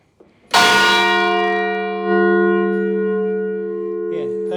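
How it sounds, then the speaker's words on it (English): The clock bell at St Mary the Virgin, Rotherhithe, is struck once by the church clock mechanism, a loud, close, ringing strike that sustains and slowly decays, with a faint click just before it. "If you zoom in to the wire, you'll see that it strikes the clock bell."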